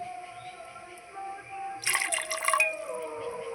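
Water is poured into a cooking pot of chickpeas with cardamom, cloves and a bay leaf: a brief, moderately loud splashing pour of about a second, faint against a quiet kitchen background.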